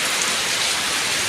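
Heavy rain pours down in the Konkan region in April, a dense, steady hiss of water falling on surfaces that stays loud and unbroken throughout with no voices.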